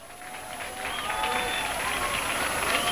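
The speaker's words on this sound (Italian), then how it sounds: "Vorrei che voi faceste un applauso a Mario." An audience claps steadily, building slightly and holding as dense, sustained applause.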